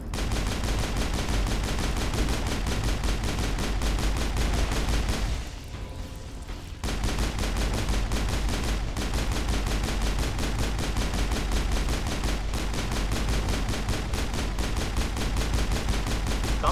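Rapid, continuous pistol gunfire in the Mass Effect video game, shots in a dense loud stream with a brief pause midway before firing resumes, no talking.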